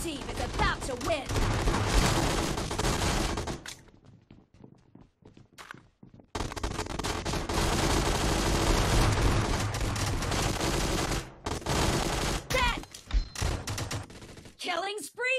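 A team deathmatch video game erupts in loud, dense bursts of rapid gunfire and sharp shots, dropping briefly to scattered pops before resuming heavy automatic fire, with an announcer's voice cutting in.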